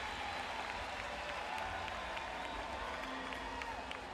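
Spectators at a Paralympic women's 200m freestyle S5 swimming final in Rio applaud and cheer a Brazilian swimmer, a dense, continuous roar of clapping with occasional whoops echoing through the arena.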